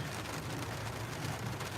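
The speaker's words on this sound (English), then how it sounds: "can you hear that it's like raining outside?" Steady, even rain hiss fills the space, a constant soft wash of falling drops with no voices.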